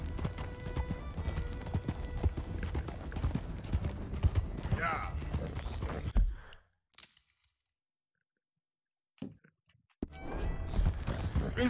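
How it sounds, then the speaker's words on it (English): Hoofbeats of a horse in Red Dead Redemption 2 clop steadily under music and game noise for about six seconds, then break off into near silence before the game sound resumes. "Meu cavalo ficou maluco."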